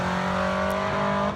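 Race cars at a summer car show event, with drifting and drag racing, a steady loud engine drone with strong harmonic tones throughout, close and continuous.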